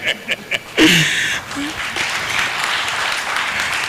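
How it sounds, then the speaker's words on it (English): Audience applause at a technology, security and development symposium, starting with a few scattered claps and swelling into a steady, moderately loud round of clapping that holds to the end. "Another round of applause for Dr. Kwapata."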